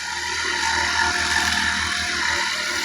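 A grass cutter drones steadily and loudly throughout, a constant buzzing motor whine with no breaks and no voices.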